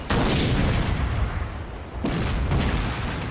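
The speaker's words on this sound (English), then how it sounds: "They're lobbing a lot of shots out there, hitting one of the gunboats" Naval cannons boom in a Total War: Shogun 2 sea battle. Loud, heavy blasts start the clip and rumble on, and two more sharp shots follow close together near the end.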